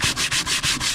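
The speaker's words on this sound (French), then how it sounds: "En pleine action de ponçage." Hand sanding on a boat makes rapid, rhythmic back-and-forth rasping strokes, about six in quick succession, loud and close with no talk.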